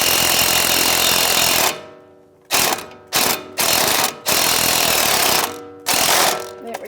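An electric drill fitted with an Allen head socket spins on a sway bar link nut of a Jeep Renegade, loud whirring bursts that start and stop several times with abrupt silences between.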